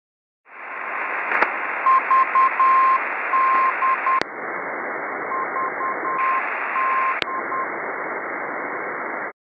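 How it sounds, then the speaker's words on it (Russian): Weak low-power amateur radio beacon signals on the 80 m band, received on Xiegu G1M and Yaesu FT-817 transceivers, sound as a faint keyed Morse tone pulsing over a steady hiss of band noise, with occasional clicks. "Вот так слышно сигнал маломощных радиолюбительских маяков в диапазоне 80 метров на два эти трансивера."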